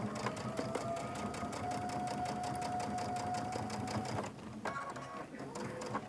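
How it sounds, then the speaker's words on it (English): A sewing machine stitching a table runner binding toward a corner, a fast steady mechanical chatter close up, briefly pausing before resuming, with no talk. "Sew down to that corner piece."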